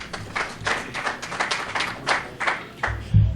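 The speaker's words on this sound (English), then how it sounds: "Give a round of applause, please, to Mark Gohl." Audience applause rings out at a William Jewell College Athletics sports lunch, sharp separate claps from a small crowd, moderately loud and steady for a few seconds, building at the end.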